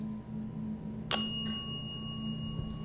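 A single bright bell strike rings out once in a quiet room during a paranormal investigation, its clear tone lingering and fading over a low steady hum.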